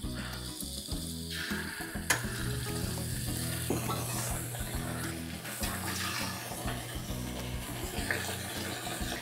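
Battered quail eggs for kwek kwek sizzle and crackle steadily in hot oil in a pan, a close, continuous frying hiss with occasional stirring clinks.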